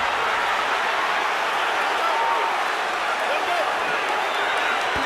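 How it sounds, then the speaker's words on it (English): A boxing arena crowd roars steadily through a late round of Andre Ward versus Sergey Kovalev, a loud, dense, continuous wall of noise with no pauses. "Crowd rocking and rolling"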